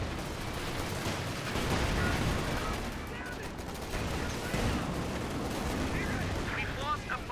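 Continuous battlefield gunfire from Company of Heroes 2, with rifles, machine guns and artillery rumbling together in a thick, steady wash of shots while unit voices call out beneath it.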